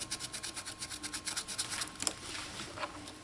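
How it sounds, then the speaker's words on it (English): Sandpaper is slid back and forth by hand over a Mosin Nagant M91/30 trigger part, making soft, rhythmic rasping strokes. It is fairly faint and close, with no talking. "You have to slide your sandpaper around a little bit."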